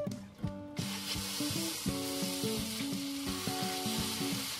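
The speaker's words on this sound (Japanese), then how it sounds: "ホットプレートを使おう。 一応油敷きますね。" Hamburg steak patties fry on an oiled hot plate, a steady close sizzle running throughout, with faint tonal music playing over it and no talking.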